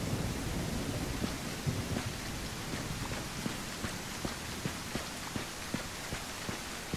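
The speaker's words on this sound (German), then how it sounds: "Dieses Wetter in London, immer Regen." Steady video game rain in London hisses across a surface with scattered distinct droplet taps, quiet and continuous, with no voices.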